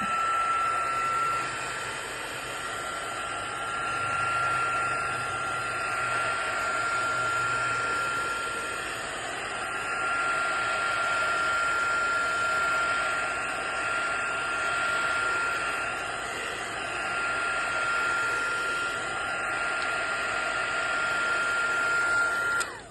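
A hair dryer blows steadily to dry a wet journal page, a continuous close whooshing whir with a constant high whine, holding an even level for the whole stretch with no talking.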